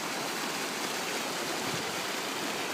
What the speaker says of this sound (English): We've never seen a waterfall here